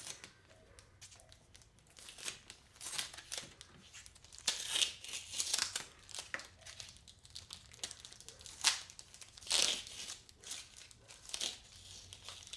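Painter's tape being peeled and paper crinkling during unpacking, close irregular bursts of rustling and tearing with brief quiet gaps.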